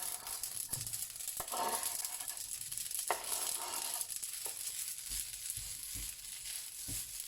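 Sausages sizzle and fry in a pan, a steady crackling hiss with scattered pops and occasional scraping of a utensil, close and continuous with no voices.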